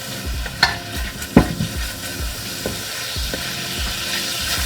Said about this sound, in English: I'm going to add the ginger first so we can season this up a little bit. Add a little more oil.